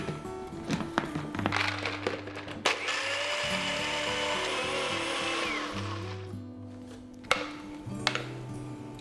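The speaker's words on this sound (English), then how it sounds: "We're gonna blend this." A countertop blender whirs through a strawberry rum cocktail with lemonade and ice, its motor starting and stopping in several short bursts with one longer sustained run, loud and close, with clattering and knocks between pulses.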